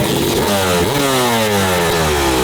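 A small engine fitted with a tiny, very short muffler revs hard and loud, its pitch climbing in a raspy surge with sharp backfire pops, close and continuous, with no talking.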